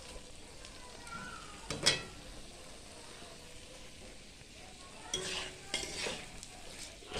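Mutton being stirred and slow-fried in a pan for a spiced curry, with a steady low sizzle, a sharp utensil scrape near two seconds, and louder scraping stir strokes toward the end.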